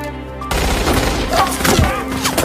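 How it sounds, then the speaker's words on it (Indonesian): A gunfire exchange in a war film between a Japanese soldier and American troops: dense, loud, crackling bursts of shots and impacts rattle on continuously. "Terjadi baku tembak antara Hiroji dan pasukan Amerika."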